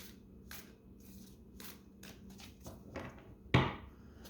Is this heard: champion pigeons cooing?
no